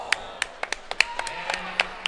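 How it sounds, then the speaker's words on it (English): One person's hands clapping at a pool tournament, about a dozen sharp, slightly uneven claps at close range, with faint room noise between them. "Oh, that's me clapping."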